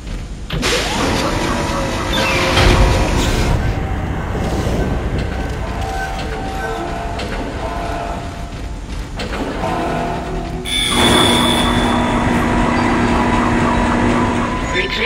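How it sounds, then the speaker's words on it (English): A tram car in the video game Dead Space rumbles and hums along its track with whooshing movement, a steady mechanical drone that swells louder near the end, with faint voices underneath. "Replacing damaged tram car."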